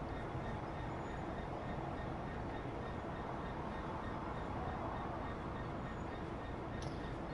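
A light engine locomotive running alone on the Gospel Oak and North London line in Train Sim World gives a steady, continuous rumble throughout, moderately loud with no talk over it.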